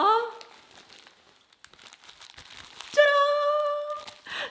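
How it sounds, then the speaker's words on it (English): Wrapping paper on a birthday gift crinkles and rustles in scattered bursts while it is torn open, with a voice before and after. "let me unwrap this"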